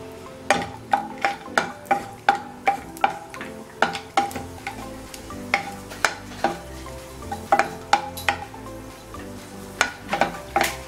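Cashews frying in hot ghee in a pan for Tamil rava laddu, with a soft sizzle beneath a steady run of close, sharp spoon scrapes and clinks against the metal pan.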